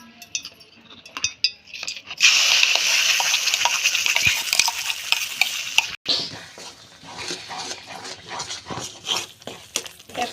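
A spoon stirs masala with cashew paste in two spoons of oil in a kadhai for paneer curry, giving intermittent scraping and clinking strokes with a sustained hissing sizzle in the middle stretch.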